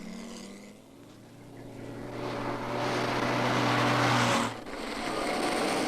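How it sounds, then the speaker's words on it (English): Prototype BMC Mini cars driving on a test track on a disused airfield, an engine drone that swells louder as a car passes close, then drops off abruptly and continues at lower level. "On a disused airfield converted into a grueling test track, prototype mini-miners were put through preliminary tryouts."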